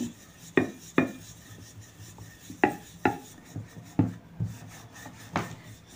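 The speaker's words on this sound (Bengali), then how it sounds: "আমি রুটিটাকে বেলে নিচ্ছি" Paratha dough rolled flat with a wooden rolling pin, heard as a regular series of close dull thuds and rubbing rolls, about one every half second, with no one talking.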